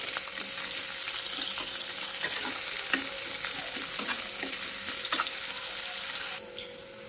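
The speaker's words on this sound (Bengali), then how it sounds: "পেঁয়াজটা দিয়ে আমি ভেজে নেব।" Chopped onions frying in hot oil with spices in a pan, a steady loud sizzle with occasional crackles and stirring scrapes, fading slightly at the end.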